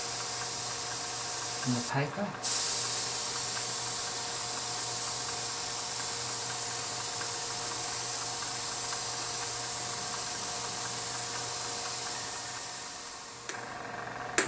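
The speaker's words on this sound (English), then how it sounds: "with some diluted Indian ink, airbrush a light spray over the whole thing." An airbrush sprays a light mist of diluted Indian ink over a scratchboard, giving a steady, soft hiss over a faint hum, with a brief spoken phrase near the start and a small knock toward the end.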